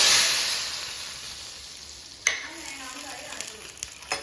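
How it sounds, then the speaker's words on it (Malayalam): Hot mustard-seed tempering poured onto a mango fish curry gives a bright, steady sizzle that fades gradually, followed by a sharp splash of hot oil and a few lighter crackles and pops. "കടുക് തളിച്ച് അതിൻ്റെ പൊക്കത്തിലോട്ട് ഒഴിച്ചു കൊടുക്കാവേ."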